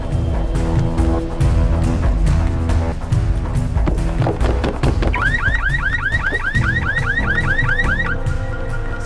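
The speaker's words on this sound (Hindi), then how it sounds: "वो गाड़ी का अलार्म बज रहा है" A green Volkswagen's car alarm starts up partway through, a loud repeating warbling whoop that cycles rapidly over busy background sounds of hoofbeats and commotion.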